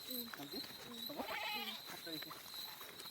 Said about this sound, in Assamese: এইটো ছাগলী